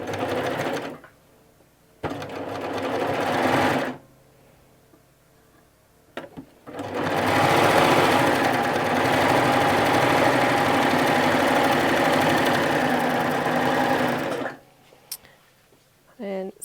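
Babylock Gloria/Triumph overlocker set up as a 4-thread serger sewing fabric, a loud steady mechanical whirr running in short bursts, then one long continuous run of about eight seconds, close up, with brief pauses between.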